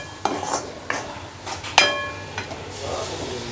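Gram flour (besan) roasts in a pan as milk is slowly added for besan ladoo, giving soft stirring scrapes and a few utensil knocks over a low sizzle and hiss.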